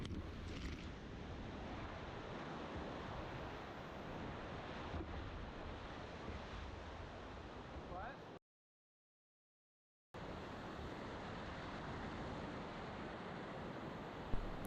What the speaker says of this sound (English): And lots of little easy rapids like this.